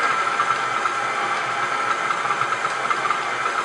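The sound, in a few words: stand mixer with paddle mixing butter at medium-low speed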